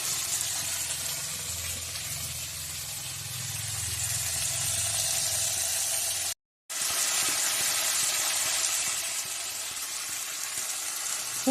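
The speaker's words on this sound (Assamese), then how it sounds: "জিৰাখিনি ভালকৈ গৰম হোৱাৰ পিছত বাকী পিঁয়াজ, বিলাহী গোটেইখিনি একেলগে দি দিছোঁ মই। লৰাই দিছোঁ এতিয়া।" Cumin, onion and tomato sizzle steadily in a hot pan with a bright hissing spatter, broken by a brief silent gap, stirring faintly audible beneath.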